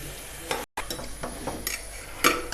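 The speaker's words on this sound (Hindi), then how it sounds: "अब इसको ज़रा भूनते हैं थोड़ा सा।" Masala fries with potatoes and eggs in a pot, making a soft, steady sizzle with a few sharp spoon scrapes and stirs, close but fairly quiet, with one very short dropout.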